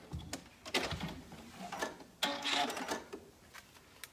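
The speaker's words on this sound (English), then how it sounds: "I'm going to move over that 1/2 inch and zigzag on the other tail so that both are sewed down nice and flat." A sewing machine zigzag-stitches elastic ends flat inside children's pants. It runs in short, quiet bursts separated by brief pauses.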